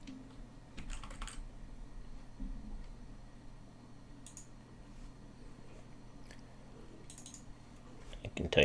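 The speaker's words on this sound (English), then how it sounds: "I can type some text here." Quiet typing on a computer keyboard while working in a Microsoft Office workbook, scattered soft key clicks in short bursts over a low steady hum, fairly faint and with no talk.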